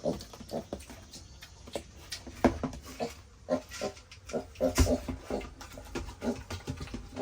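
Pig at a farm grunting in short repeated bursts over breakfast, close and moderately loud, with farm background noise between grunts.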